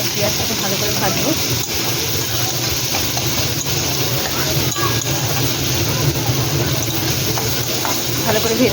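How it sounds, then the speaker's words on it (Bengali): Onions frying in a pan with fish heads for a mung dal dish, a steady close sizzle and hiss with stirring scrapes throughout. "আর পেঁয়াজটাকে ভালো করে ভাজবো"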